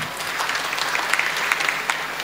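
Audience applause at a kirtan, a steady round of dense clapping from a seated crowd that runs without pause for a couple of seconds.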